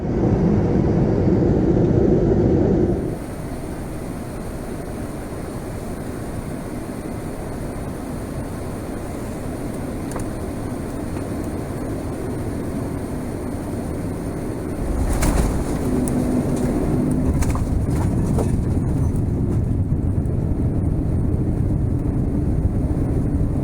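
Inside the cabin of a Turkish Airlines Boeing 787-9 Dreamliner landing in Amsterdam, a steady broad engine and air roar drops in level, then a rumbling surge with rattles comes as the wheels meet the runway.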